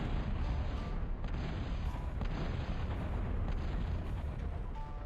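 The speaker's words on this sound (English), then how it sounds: "Something got pissed off and is firing at us. Yeah, that's a battleship." Battleship artillery in Total Annihilation pounds continuously, a dense, loud wall of booming cannon fire and explosions with no gaps and no talk.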